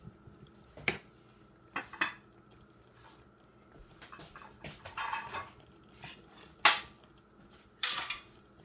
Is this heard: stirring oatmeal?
yes